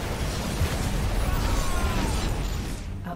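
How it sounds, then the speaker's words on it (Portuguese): A tactical bomb drops during a StarCraft 2 co-op mission as Terran commander Mengsk, giving a dense, sustained blast and rumble with crackling bursts, loud and steady, then cutting off abruptly near the end. "Vou soltar uma bombinha tática aqui."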